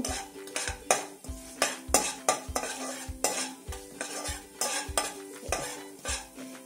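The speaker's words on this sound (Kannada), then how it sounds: "ಇದಕ್ಕೆ 1 ಸ್ಪೂನಷ್ಟು ಕಡಲೆಬೇಳೆ, 1 ಸ್ಪೂನಷ್ಟು ಉದ್ದಿನಬೇಳೆ ಹಾಕಿ ಲೋ ಫ್ಲೇಮಲ್ಲೇ ಹುರಿಬೇಕು" Chana dal and urad dal roasting on a low flame, heard as regular rhythmic spoon strokes scraping and knocking a metal pan, about a dozen distinct beats over a faint sizzle, close, no talk.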